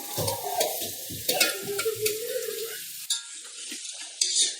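Tomato and onion stir-fried in a pan, loud frying crackle with repeated clattering strokes of a spatula, then a quieter, thinner sizzle with occasional taps; nobody speaks.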